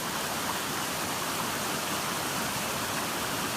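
A waterfall captured on an iPhone microphone, a steady broadband rushing roar with no breaks, close and constant, top end dulled by the phone's limited response.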